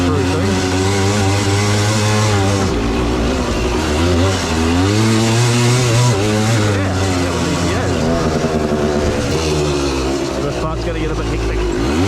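A three-wheeler revs hard with its wheels spinning in a pool, a loud, continuous, close engine roar whose pitch rises and falls as the throttle is worked, with no pauses.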